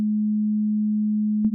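Two pure sine waves at 300 Hz and 310 Hz make a steady low tone that holds evenly for over a second, then cuts off abruptly with a click at the end.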